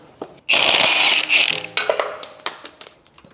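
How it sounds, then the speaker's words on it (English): A ratchet clicks rapidly and loudly up close, unbolting the drive shafts from the differential of a V12 BMW 850i, in one long burst followed by slower, fainter clicks. "Now I'm gonna unbolt the drive shafts from the diff"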